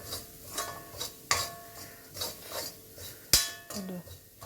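Grated coconut being stirred in a pan with a utensil, giving soft scraping strokes and a few sharper metallic clinks at an irregular rhythm, fairly quiet and close.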